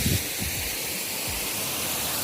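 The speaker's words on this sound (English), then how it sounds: "And then boom, the waterfall." A waterfall in Shimba Hills, Kenya, roars as a steady, broad rush of falling water, close and continuous, with no voices over it.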